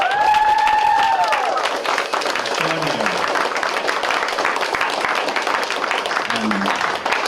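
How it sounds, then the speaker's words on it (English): Loud applause from an audience honoring student poets at a final concert, dense continuous clapping with an early whoop and some scattered shouts, and voices faintly audible under the clapping. "Round of applause for the poets, please."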